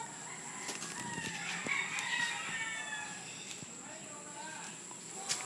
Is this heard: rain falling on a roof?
no